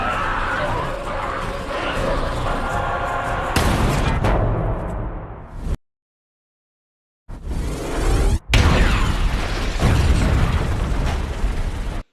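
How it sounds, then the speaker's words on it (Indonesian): In the zombie film Army of the Dead, gasoline carried by a man is shot and explodes: a loud, sustained roaring blast and rumbling debris, a sudden second of silence, then another booming burst. "Guzman pun menembak bensin yang sedang dibawa oleh Chamber dan meledakkan Chamber"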